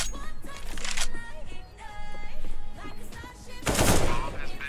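Gunfire in a shooter video game, with rapid bursts of shots in waves and a heavier volley near the end, loud and close over game effects.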